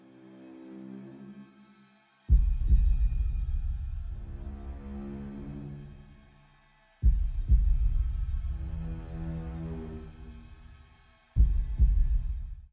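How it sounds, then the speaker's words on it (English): Deep sub-boom hits from the Vienna Smart Hits library strike three times, each a heavy low impact swelling into a long rumbling tail that fades over several seconds before the next hit, with no voice over them. "Let's go for the sub-boom now. Vienna Smart Hits."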